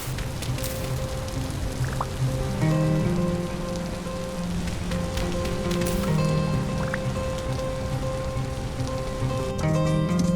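Steady rain in the video game Vintage Story patters continuously on a surface, dense and close, with a low constant hum underneath and occasional brighter drips.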